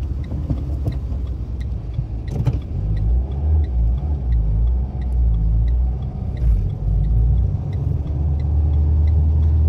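A learner's car in a driving lesson pulls away from a stop, its engine a steady close low rumble that rises slightly as it gets moving, with no talk over it.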